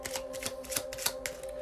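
A deck of cards riffles and slides in a quick, close shuffle, a dense run of soft papery flicks and snaps for under two seconds, with a faint steady tone in the background.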